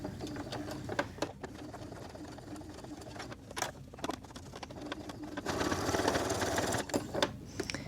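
A sewing machine runs in short bursts while back stitching a beginner's AirPods keychain case, a quiet, close mechanical whir that starts and stops, rising to a steadier run near the end, with no talking.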